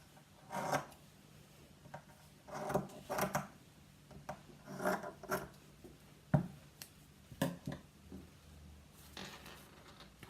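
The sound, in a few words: trimming fabric strips to length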